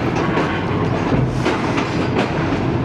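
Pak Business Express train rolls into the Hyderabad Junction station yard, a loud close rumble with steady rhythmic clatter of wheels over rail joints.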